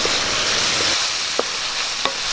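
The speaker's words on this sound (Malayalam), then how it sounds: "നമുക്കൊന്ന് വഴറ്റിയെടുക്കാം" Onions with ginger-garlic-green chilli paste sauté in a hot pan, a continuous close sizzle with a few soft scrapes of a stirring spoon.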